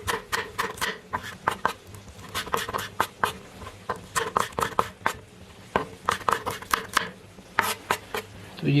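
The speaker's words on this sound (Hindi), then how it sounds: "तो मिर्ची भी इसी तरह लंबी शक्ल में काट लेते हैं" Knife chopping green chillies lengthwise on a board for a beef karahi, a quick uneven run of sharp close taps with brief pauses between bursts.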